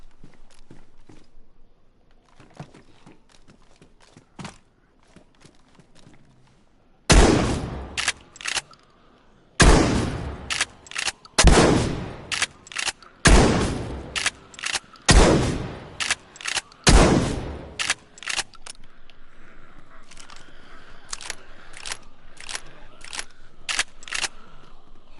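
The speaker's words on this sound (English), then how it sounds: "I can hit it with this shotgun from back here" Shotgun fire in DayZ: a run of about seven loud, sharp blasts spaced a second or two apart, each with a short decaying tail, preceded and followed by quieter footsteps and handling clicks.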